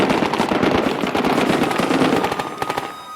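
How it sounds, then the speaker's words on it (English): Sporadic gunfire from enemy positions pours into a street in an Iraqi urban combat zone, rapid irregular bursts of sharp cracks at moderate distance, dense then thinning toward the end. "Sporadic gunfire pours into the street from enemy positions."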